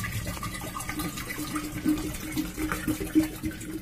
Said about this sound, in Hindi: अब मैं इस कांच के शीशी में पानी डाल लेता हूँ